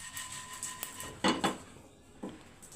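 Whole spices and red chillies for Bengali mango oil clatter in a pan, with a few soft scrapes and sharp utensil knocks at irregular intervals against a faint background hiss.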